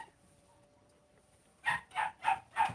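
A household dog barks in the background: four sharp, evenly spaced barks arrive after a quiet stretch, moderately loud and a little distant.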